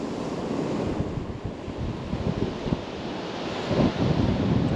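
Ocean waves roll onto a beach in Vietnam, a loud, continuous rushing wash with uneven surges, heavily buffeted by wind blowing across the microphone.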